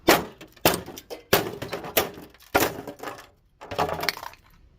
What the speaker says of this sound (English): you could just hit them with your hammer